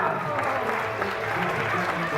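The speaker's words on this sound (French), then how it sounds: "On applaudit très fort." A crowd at a country fair in Drummondville applauds loudly and continuously, a dense wash of clapping with no break.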